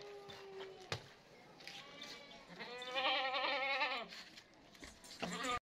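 A goat for sale in Karachi bleats close by, with one long wavering bleat in the middle and a shorter call near the end over a faint background hum.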